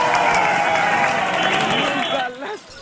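Onlookers burst into applause and cheering after a young man rescues a baby hanging from a fifth-floor apartment, a busy crowd noise under a narrator's voice that fades toward the end.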